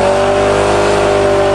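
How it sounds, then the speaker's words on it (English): Ford Thunderbird engine held at high revs on a farm, a loud, steady, droning roar close by with no break. "Still running really good. Give me lots of revs."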